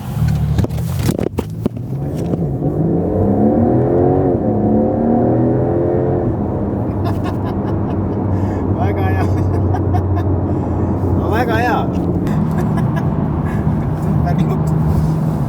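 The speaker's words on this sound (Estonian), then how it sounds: "Kiirendab päris hästi, liigub, kui vajutad gaasi, siis läheb." A new Porsche 911 GTS accelerates hard in dense traffic, its engine note climbing steadily and loud up close from inside the cabin, with voices talking over the rising drone.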